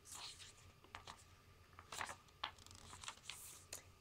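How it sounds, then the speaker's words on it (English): Paper pages of a handmade mini bag junk journal being turned and handled, soft rustles and crisp flicks coming in quick, irregular bursts, faint and close. "Love the sound of that paper"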